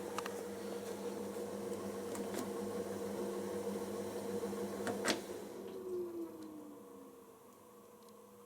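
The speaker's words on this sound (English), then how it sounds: "And it even sounds like the fan's still on." Steady whirring fan inside an LG washer dryer about eight years old, still running after the heater has shut off; a continuous mechanical hum and airflow with a few clicks, slowly fading near the end.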